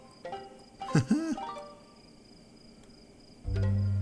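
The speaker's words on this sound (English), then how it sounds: "There's a frog." A frog creature in the video game Proteus gives a quick burst of chirpy, warbling synthetic tones, then quiet, then a steady low electronic hum comes in at the end.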